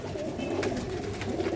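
Rooftop Chuhe pigeons coo in a steady, low, continuous murmur, fairly close and without pause, with no voices.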